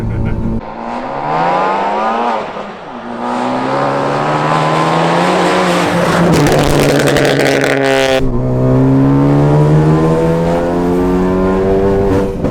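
A loud, straight-piped, methanol-injected 350bhp Ford Focus ST revs hard and close, its engine note climbing and dropping through several sustained pulls with a crackling burst in the middle.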